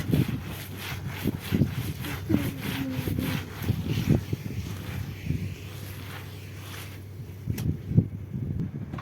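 A carpet is scrubbed into a lather by hand, giving rhythmic rasping brush strokes that repeat close and fairly loud, then briefly ease off before a few final scrubs.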